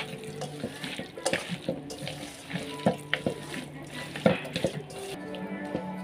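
Mutton being mixed by hand with chopped onion, giving soft wet squelching and slapping in irregular strokes, fairly close, with faint speech in the background.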